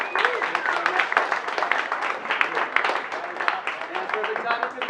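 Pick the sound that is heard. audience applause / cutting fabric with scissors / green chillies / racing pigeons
audience applause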